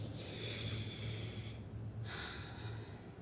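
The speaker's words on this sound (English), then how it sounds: "Taking some deep breaths here." Slow, deep breathing during a beginner yoga class, with a long, soft airy exhale close to the mic that fades into a steady, quiet room hiss.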